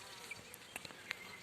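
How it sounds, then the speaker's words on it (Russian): A swarm of honey bees taken from an apple tree buzzes faintly outdoors at an apiary, with a few individual bees flying close by in brief, sharper passes over a low steady hum. "пока катаю пчел на себе"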